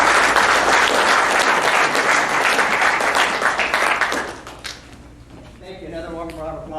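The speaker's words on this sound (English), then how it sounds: "Another one round of applause." A school audience applauds loudly at a senior awards day program, dense sustained clapping that fades after about four seconds, leaving quieter room noise with some voices.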